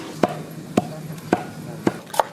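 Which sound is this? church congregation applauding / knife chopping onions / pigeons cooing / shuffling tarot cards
knife chopping onions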